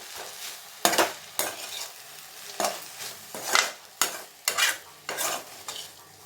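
Beetroot poriyal with masala gets stirred in a pan: a spatula scrapes in sharp, irregular strokes, around eight distinct scrapes over a soft background, close and fairly quiet, with no speech.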